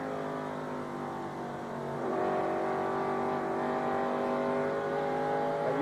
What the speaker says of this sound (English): if you've been listening to Rusty's engine